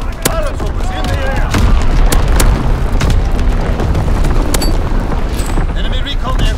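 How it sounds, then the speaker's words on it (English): Deep booming blasts from an enemy bombing run in a multiplayer video game, loud and continuous with repeated impacts and rumble, while game voice callouts play over the top. "Enemy bomb incoming. Get to cover."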